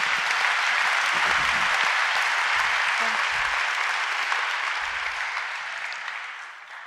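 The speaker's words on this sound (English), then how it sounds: "The owners, that deserves a round of applause." Loud, sustained applause from an audience at an empowerment day event honouring the business owners, dense and continuous, slowly tapering toward the end.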